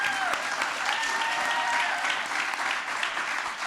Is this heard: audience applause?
yes